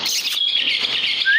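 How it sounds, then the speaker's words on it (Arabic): Small caged birds, a pair, chirp and tweet continuously in quick, overlapping high-pitched calls, close by, with a brighter rising chirp near the end. "فأكو هم زوج الطيور بعدنا ما مصورين لكم"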